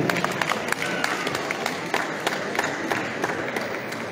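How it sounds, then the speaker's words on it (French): An audience breaks into sustained applause at a Miss Dary pageant at Festival Dary 2023, many hands clapping in a dense, lively patter with crowd noise mixed in. "sous un tonnerre d'applaudissements"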